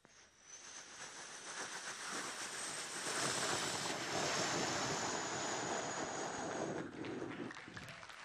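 A voice makes a long, breathy whooshing roar that swells and holds before fading, imitating an airplane coming in to land.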